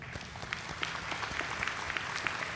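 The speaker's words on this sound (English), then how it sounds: "let's give her a round of applause for that" An audience claps at a ceremony honouring a three-year council member, a brief, moderately distant burst of scattered applause.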